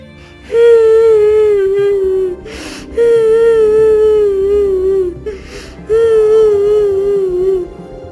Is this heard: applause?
no